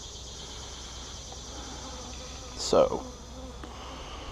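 Honeybees hum steadily around a newly installed hive during its first inspection. The hum is a continuous insect drone, and one bee buzzes louder as it passes close by partway through. A voice briefly speaks.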